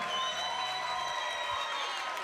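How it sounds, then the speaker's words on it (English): Crowd at an MMA fight night cheers and whistles after a three-round bout, a steady, distant wash of applause and shouts with a high whistle running through it. "Ladies and gentlemen, big round of applause for these 2 fighters."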